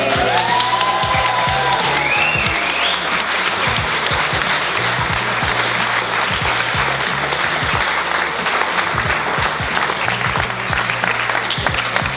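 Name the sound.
audience applauding and cheering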